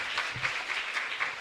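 Audience applause at a church novena gathering for María Auxiliadora in a chapel, a steady patter of hand claps sustained throughout at moderate distance, fairly soft.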